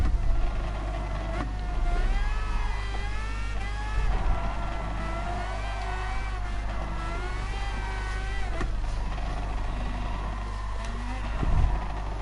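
A race car engine roars in the GT Sport driving game during an endurance race, a sustained tone that rises and falls with gear shifts and cornering, with a few short thumps and no speech.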